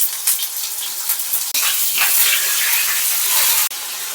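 Tomatoes with a little salt sizzle and spit loudly in hot oil in a pan, a steady, close frying hiss that jumps abruptly in intensity twice.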